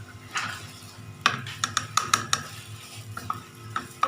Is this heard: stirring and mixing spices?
yes